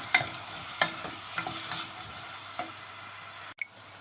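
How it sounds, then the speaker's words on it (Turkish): Onions and carrot sizzle steadily in a hot pan, with a few soft clinks and scrapes of stirring over the constant frying hiss. "Bunu da soğanlarla birlikte kavuralım biraz."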